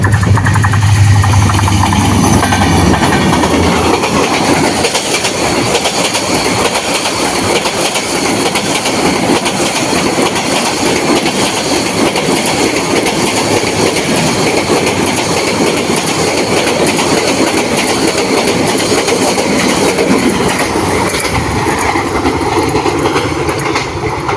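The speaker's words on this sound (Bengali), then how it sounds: "একটা ট্রেনও আসতেছে আপনাদেরকে এই মুহূর্তটা একটু দেখাই এই জায়গার ট্রেন আসতেছে" A train passes close by on a rural Bengal line, a loud continuous rumble with rhythmic clickety-clack of wheels over rail joints, sustained for over twenty seconds with no talk.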